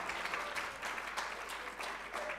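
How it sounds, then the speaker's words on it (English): Applause from the audience at a university research chair launch, a steady, fairly subdued patter of many hands that carries evenly throughout without any voices on top. "this applause is very weak"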